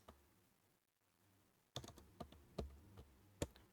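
Computer keyboard being typed on while a mobile number is entered into billing software, a few separate sharp key clicks after a brief near-silent pause, close and fairly quiet, with no talking.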